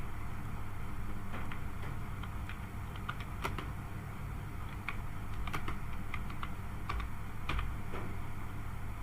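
A computer keyboard is being typed on to fill in an online teacher award form. Irregular clusters of key clicks ride over a constant low background rumble, and no voices are heard.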